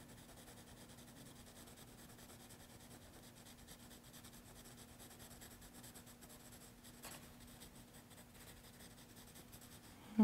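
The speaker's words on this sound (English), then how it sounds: "we can shade one side with the side of our pencil" A pencil shades on paper with the side of its lead, a faint steady scratchy rubbing that continues for several seconds over a low hum, close and quiet, ending in a sudden louder knock.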